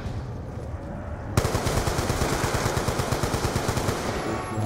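Automatic gunfire in the video game Call of Duty Black Ops II Zombies, starting abruptly after a quieter stretch and continuing as a loud, rapid, evenly spaced burst.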